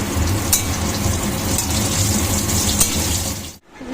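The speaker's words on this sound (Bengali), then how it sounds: "হচ্ছে চারটা গোল গোল উচ্ছে ভাজা হচ্ছে" Four round bitter gourd slices fry in a pan with a close, steady crackling sizzle and a few sharp pops, stopping abruptly near the end before resuming faintly.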